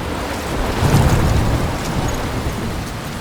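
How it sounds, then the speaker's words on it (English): Storm and rain in the game Life is Strange: Remastered, a dense hiss of rainfall with a low rumble of thunder swelling near the start, loud and continuous. "I'm trapped in a storm?"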